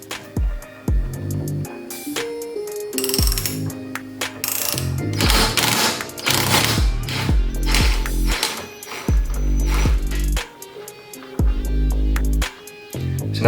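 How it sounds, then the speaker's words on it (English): A socket wrench works loose a strut nut on a BMW F80 M3, giving rapid mechanical clicking and ratcheting bursts with short pauses, close and fairly loud, with no talk. "let's go ahead and attempt to remove this nut."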